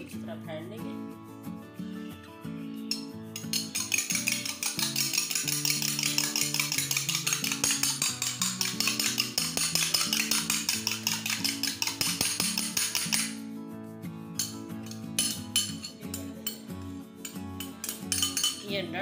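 Egg beaten with a utensil in a bowl for makai (maize) roti dough, a steady run of quick metallic clinks and scrapes that grows busy then eases off, with someone talking over it.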